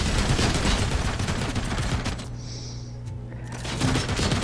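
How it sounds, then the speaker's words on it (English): Rapid gunfire in the video game RoboCop: Rogue City, loud sustained bursts of shots and booms that briefly thin out midway before the firing picks back up, with a faint voice underneath. "So I kind of just have to peek around and shoot him as he's shooting me."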